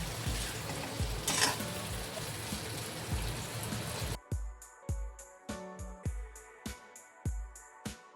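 Stuffed brinjals with onion, garlic and masala stir-fried in a pan for a Maharashtrian bharli vangi, a dense sizzle giving way to repeated sharp scraping and stirring knocks against the pan.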